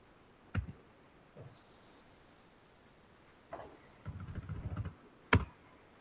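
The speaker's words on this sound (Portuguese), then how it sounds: "Aí passa com a seta do computador, o teclado." Keys on a computer keyboard are pressed in a handful of sharp separate clicks, with a brief cluster of rapid taps. The sounds are close and fairly quiet against a faint steady hiss, with no talking.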